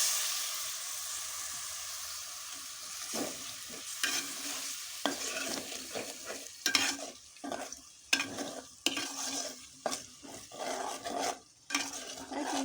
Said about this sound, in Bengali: দিয়ে দিলাম হলুদ হলুদ আবার দিচ্ছি আর দিয়ে আর মাংসটা একটু কষিয়ে